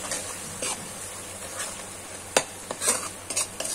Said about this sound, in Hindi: इसको भी मिला लेते हैं ओके और इसको भी अच्छी तरीके से भूनेंगे